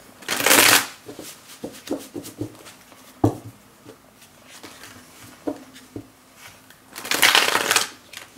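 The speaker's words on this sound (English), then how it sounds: "those do not want to shuffle" Tarot cards are riffled in two loud bursts at the start and end, with soft taps and shuffling handling sounds between, close up.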